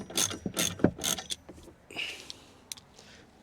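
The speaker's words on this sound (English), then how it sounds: "I would give it a few turns with a ratchet first, just to make sure you don't cross thread the bolt" A ratchet turns a bolt while a K-brace is fitted to a Renault Clio 182 Trophy. Several quick bursts of close, sharp pawl clicking are followed by softer, sparser clicks.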